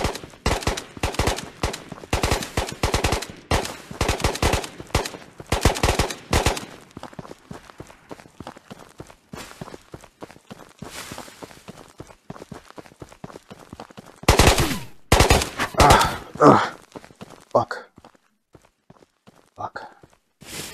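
Gunfire in a shooter game cracks out in quick, sharp bursts, loud and close, with quieter stretches between volleys and a voice talking over parts of it.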